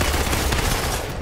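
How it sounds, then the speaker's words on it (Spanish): Dense bursts of enemy gunfire in the Marvel's Avengers video game, with rapid overlapping shots forming a loud, continuous barrage. "Es que se la pasan disparando estos tiros."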